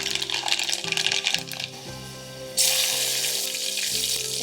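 Mustard seeds and fenugreek spluttering in hot coconut oil, a close, dense crackle and hiss that jumps abruptly louder partway through and stays steady, with no voices.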